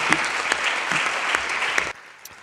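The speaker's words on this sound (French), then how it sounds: "Vous pouvez applaudir M. Pinto." A crowd claps steadily for about two seconds, then the applause abruptly drops away to near quiet.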